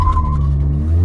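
A Skoda Laura vRS with a 1.8 TSI engine launching hard in a drag race, a loud, close engine roar with a rising whine and strong low rumble packed into a brief burst.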